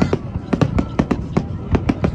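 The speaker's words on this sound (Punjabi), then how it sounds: "ਪਟਾਕੇ ਚੱਲਣ" Firecrackers pop in a rapid, fairly regular string of sharp cracks, close and loud, with faint voices in the background, in Chicago.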